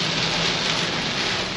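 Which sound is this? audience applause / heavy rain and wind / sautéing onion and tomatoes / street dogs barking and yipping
heavy rain and wind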